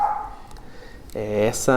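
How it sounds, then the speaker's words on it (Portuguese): A dog barks in two quick bursts near the end, fairly close, following a stretch of quiet room noise and a faint voice. "peço desculpa para vocês aí com o cachorro que está latindo"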